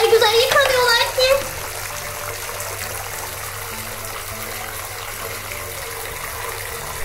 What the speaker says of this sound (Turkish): Suyu biraz daha açayım.